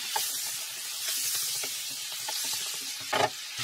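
Apples cook down in a Ninja Foodi OL701 with a steady close sizzle and soft hiss, broken by faint stirring scrapes and a louder burst of spatter near the end.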